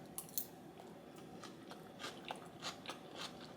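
Crisp crunching bites into Panda Express broccolini, several short chewing crunches spaced irregularly and heard up close at low level, with no talking.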